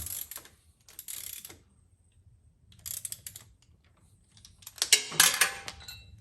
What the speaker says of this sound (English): So we're just going to screw these in too.